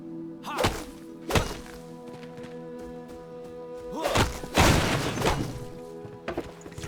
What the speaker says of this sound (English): You can use really like any weapon or object pretty much to chop down anything else.